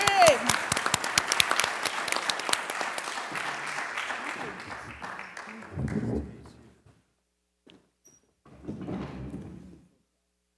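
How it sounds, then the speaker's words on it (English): A crowd at a gathering on regenerative agriculture, fisheries and aquaculture breaks into loud, dense applause that gradually thins out and fades after about five seconds, followed by brief murmurs and voices with pauses between them. "Big round of applause, please"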